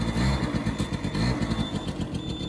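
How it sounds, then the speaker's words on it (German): A motorcycle engine runs loudly and close after being started on the electric starter, holding a steady, throbbing idle with slight fluctuations throughout. "Versuch mal E-Starter."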